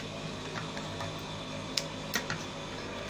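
A sewing machine stitching a line of fabric gives a quiet, steady mechanical hum with a few sharp clicks scattered through it. No voices are heard.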